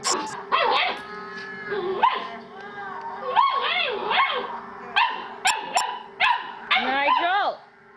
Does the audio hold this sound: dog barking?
yes